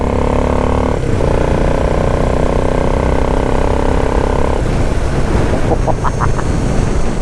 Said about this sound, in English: Oh, biplane.